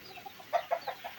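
A few short clucks from a native hen, evenly spaced and moderately close, with faint background noise.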